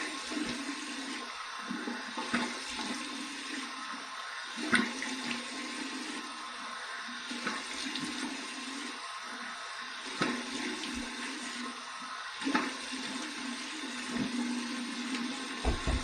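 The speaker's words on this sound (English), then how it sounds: "All right, here we go with cold water rinse." Cold tap water running steadily for a razor rinse, a continuous rushing flow at moderate level with a low hum and a few faint clicks and knocks, with no speech.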